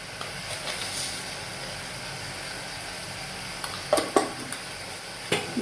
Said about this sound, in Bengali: দিয়ে খুব ভালো করে মশলাটা আমি কষিয়ে নেব